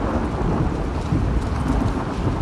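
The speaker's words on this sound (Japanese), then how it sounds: "俺もう最近雷が怖くて怖くてしょうがないんだよ。" Thunder rumbling through a rainstorm in The Last of Us Part II, a steady loud roll of low thunder over dense falling rain, with no voices.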